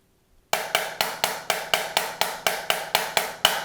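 After a brief silence, a sharp, bright drum roll of evenly spaced strokes plays, about thirteen crisp hits at a steady quick pace, close and loud.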